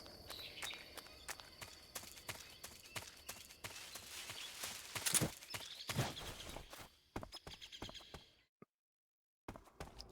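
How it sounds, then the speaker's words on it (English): Rapid footsteps in the Metal Gear Solid 3 video game, quiet and clustered over a busy low game mix of ambient noise and occasional impacts, then a near-silent gap toward the end. "And unlike Major, Spartyy will use grenades to cancel his footsteps."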